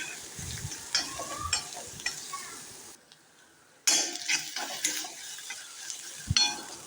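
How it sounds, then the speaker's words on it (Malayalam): Onions sautéing with crushed ginger and garlic in a pan: steady sizzle with repeated scraping stirs and utensil clinks, interrupted by a brief quiet gap before the frying resumes. "അര സ്പൂൺ ഇഞ്ചിയും വെളുത്തുള്ളിയും കൂടെ ചതക്കിയത് ഇട്ട് കൊടുക്കാം എന്നിട്ട് നന്നായിട്ട് വയറ്റിയെടുക്കണം"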